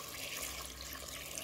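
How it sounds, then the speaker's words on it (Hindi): Water pours steadily into a pressure cooker holding soaked chickpeas, a continuous rushing splash with no break over a second and a half and no voices. "इतना पानी डालेंगे कि हमारे चने अच्छे से इसमें डिप हो जाए"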